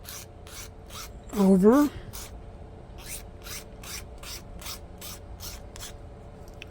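A 3D-printed Hamilton Standard propeller blade is filed down with a steady rhythm of about a dozen close rasping strokes, and a brief spoken word cuts in near the start.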